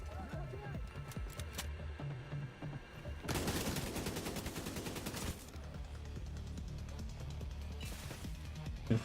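Mounted turret fires in The Division 2, a sustained rapid burst of automatic gunfire for about two seconds in the middle, with game music and ambient noise throughout and a voice talking in stretches before and after.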